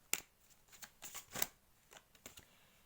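Oracle cards shuffled for an intuition reading, a series of soft riffling flicks and taps in uneven bursts, close and quiet with no talking.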